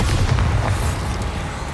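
A Bombarda spell blast in Hogwarts Legacy, a loud, broad rumbling boom that rolls on for under two seconds without any voices.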